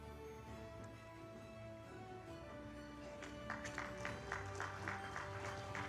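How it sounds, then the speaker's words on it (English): Scattered audience clapping at a wellness and health-tech summit, faint at first and then building into light applause for an award recipient, over a low background hum. "A big round of applause for Dr. Vinay Kumar"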